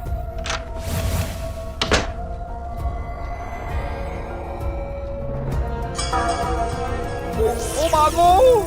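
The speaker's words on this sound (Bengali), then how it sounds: "আর আর আমাদের দরজা ধাক্কাও দিল।" In a Bengali cartoon episode, a door is shoved and knocked, giving two sharp wooden thuds early on, followed by quieter rattles and clatter under a murmur of voices.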